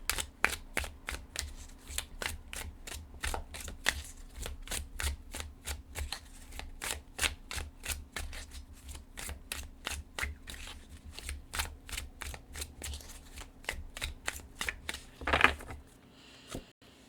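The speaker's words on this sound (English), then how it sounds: "Let's get a couple of oracle cards." Oracle cards are shuffled close up in a long, even run of crisp riffling flicks that continue alone and without pause for over fifteen seconds.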